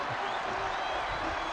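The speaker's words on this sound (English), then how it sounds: "Look at the crowd. They've gone absolutely ballistic." A stadium crowd roars continuously after Warrington win a Super League rugby league match against Bradford, a dense, steady wash of cheering and clapping with commentary voices over it.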